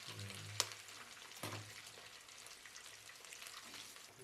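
Egg fries in a pan at an evening street food stall, a soft steady sizzle close by with a couple of sharper clinks or stirs, quiet overall and without speech.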